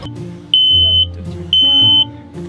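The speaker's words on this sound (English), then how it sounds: "So we have a carbon monoxide and fire alarm" A carbon monoxide and fire alarm inside an RV gives two loud, shrill half-second beeps about a second apart, with people talking quietly underneath.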